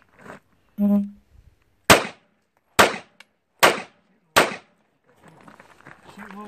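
Gunshots at shooting practice ring out as four sharp, loud reports spaced roughly a second apart, each with a short decaying tail, preceded by a brief voice and followed by faint background noise.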